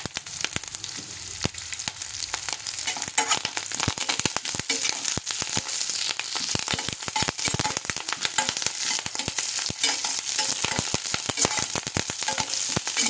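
Dried red chilies, cumin, mustard seeds and curry leaves sizzle steadily in hot oil for ajwain rice, with a dense, continuous crackle and frequent sharp pops from the spluttering seeds, close and loud with no talking.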